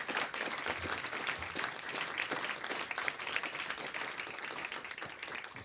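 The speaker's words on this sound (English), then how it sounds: "a round of applause for them all collectively" An awards-night crowd at the Limerick Person of the Year ceremony applauds all the nominees together, dense and steady clapping heard at a distance and fairly soft, with no talk over it.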